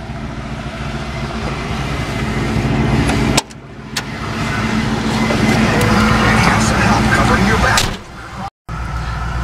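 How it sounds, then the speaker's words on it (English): A 1986 Mustang GT with pony wheels drives around the block while its engine warms up, a steady close rumble of engine and road noise with two brief dropouts, and people talk over it. "I'm just gonna kind of run around the block real quick and let the engine warm up."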